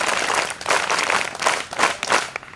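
Audience at a career academy in Pune claps again in several loose bursts of overlapping hand claps, rising and falling in waves, fairly close and moderately loud.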